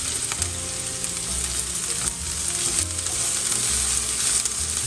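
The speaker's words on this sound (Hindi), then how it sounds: "इससे हमें मीडियम फ्लेम पे 5 मिनट फ्राई करना है।" Bottle gourd peels with onion, ginger, garlic fry in a pan over medium flame, giving a steady close sizzle with occasional stirring scrapes throughout.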